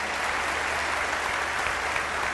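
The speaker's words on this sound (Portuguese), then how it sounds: "E um aplauso para Uruguai." Audience at an evangelical gathering claps steadily for Uruguay, a dense, even wash of applause that holds at full strength for the whole short stretch, with no voices above it.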